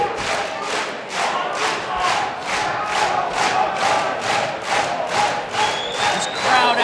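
A packed crowd at a CAGE MMA fight roars and chants in rhythmic pulses, loud and sustained, with regular surging beats of unified shouting.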